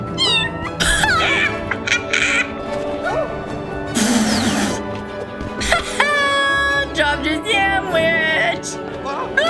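Cartoonish kitten meows and wails repeat in bursts from the cat character in Little Kitty Big City, mixed with a crash and other game sound effects, loud and close, with some voice in between.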